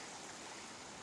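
Floodwater rushing down a swollen creek that has cut a new channel through a field, a steady broadband roar of fast-moving water with no pauses, close and fairly quiet.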